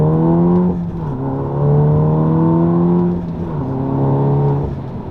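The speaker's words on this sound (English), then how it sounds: "when you really open it up, it sounds almost like a flat 6 or like an inline 6" A VW MK7.5 Golf R with an APR exhaust and IE downpipe revs hard. Its loud, close exhaust note rises and falls in two long swells, with a smooth, rich drone.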